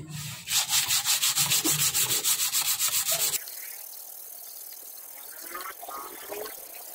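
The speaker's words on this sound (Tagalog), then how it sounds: "At yun, liha na lang po." Sandpaper scrubbing a plastic motorcycle cover stripped with paint remover, a fast steady rhythm of close, loud rasping strokes that stops partway, leaving a softer hiss.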